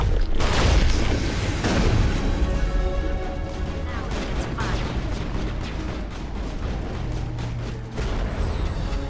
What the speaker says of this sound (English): I should throw a grenade.